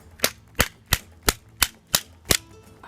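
Sharp banging of an Xbox One microphone against a hard surface: seven crisp, loud, evenly spaced impacts about a third of a second apart, with no talking.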